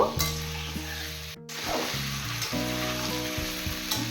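Prawns fry in a hot pan for a Bengali chingri malai curry, a continuous bright sizzle broken by a brief silent cut, with stirring and low tonal hum from the stove underneath.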